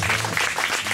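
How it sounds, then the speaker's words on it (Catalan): Open-air concert crowd applauding a band member, a brief burst of dense, steady clapping, loud and close, with faint voices mixed in. "Un aplaudiment per ell, sisplau"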